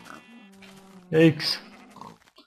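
Minecraft pigs oink in short grunting bursts, with a loud snort near the middle and a softer one just after, heard alongside a player's speech and game tones.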